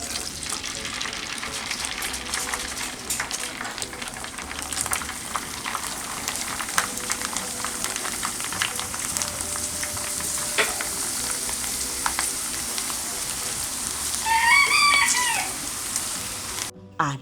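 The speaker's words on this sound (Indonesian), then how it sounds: "Lalu goreng secukupnya potongan kerupuk." Petai crackers fry in hot oil in a home kitchen, giving a continuous crackle with scattered pops, and a rooster crows faintly in the background near the end.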